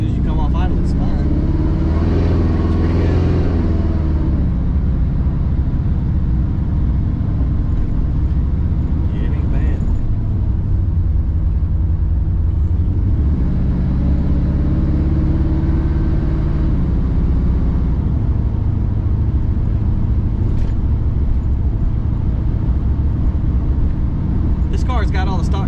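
An Oldsmobile Cutlass on 24-inch wheels pulls off idle while driving, its engine rising and falling in a continuous mid-pitched drone, near and loud throughout.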